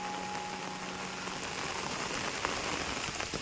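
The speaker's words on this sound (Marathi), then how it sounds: "पाऊस जोरात चालू हा मंडळी बघा डोंगरात पाऊस भरपूर लागता" Heavy rain pours down steadily in hilly country, a dense, even hiss of drops drumming on surfaces with no voices, close and loud throughout.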